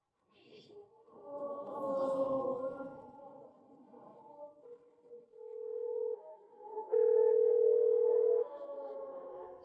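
A telephone ringing tone heard while a call is being placed: steady electronic tones in the middle, ending in a louder sustained tone, with faint sounds before it.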